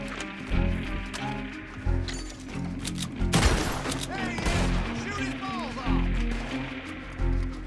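Gunfire in the Red Dead Redemption video game, with repeated sharp shots and a few louder blasts over a busy, dense game soundscape, while voices talk throughout.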